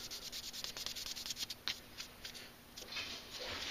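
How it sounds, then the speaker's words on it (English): Sandpaper rubbing on a plastic Gunpla model kit part for an MG Zeong conversion, a steady close scratchy rasp in repeated strokes that pauses briefly midway before resuming. "We're going to sand until it's gone."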